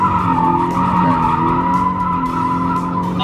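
A car drifting during a professional drift course at the Speedway international racing circuit, its engine droning steadily under a sustained, loud tire squeal, with no talking.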